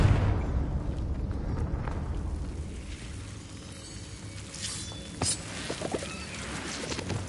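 Confringo blast spell in the video game Hogwarts Legacy, a rumbling fiery explosion that booms loudly at the start and slowly decays, followed by crackling debris and a few sharp magical zaps.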